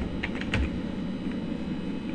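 Typing on a computer keyboard while entering a command-prompt telnet command, a few quick soft key clicks early on over a steady background hum.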